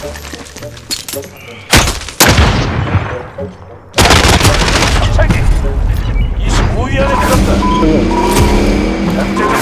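Gunfire in the video game Call of Duty Warzone: several booming reports and rolling volleys echo from a distance, followed by a sustained dense clatter of shooting and battle noise.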